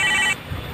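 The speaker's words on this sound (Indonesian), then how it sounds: "Telepon." A telephone rings in a short, bright electronic burst that cuts off abruptly after a fraction of a second, leaving low room noise.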